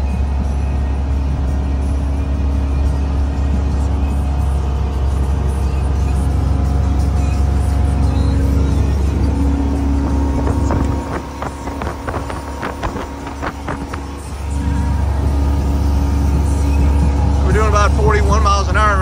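Steady low engine drone of a 2005 Crownline 240 boat under way, loud and close with constant hum through a turn, briefly dipping midway, with wind rush and someone talking over it.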